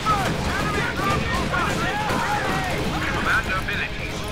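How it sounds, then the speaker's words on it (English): Grenade explosions and gunfire from the Company of Heroes 2 war game, a dense sustained barrage of blasts and shots under overlapping in-game voices and shouting. "Oh, it's grenades!"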